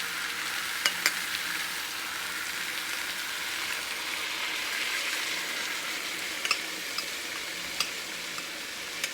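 Chicken simmering in a broth mixture in a skillet gives a steady close bubbling sizzle with a few sharp pops and crackles throughout, no voices.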